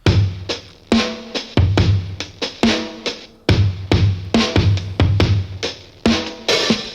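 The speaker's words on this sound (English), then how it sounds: "I've got this cool little lo-fi / trip hop drum beat that I've cultivated" Lo-fi trip hop drum beat with punchy kicks, crisp snares and hats in a steady laid-back loop, loud and up front, no talking.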